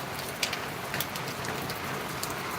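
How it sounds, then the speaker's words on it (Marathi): Heavy daytime monsoon-style rain pours steadily in October, a dense continuous hiss with scattered louder drops striking surfaces close by, no voices. "वा असा पाऊस पडतोय"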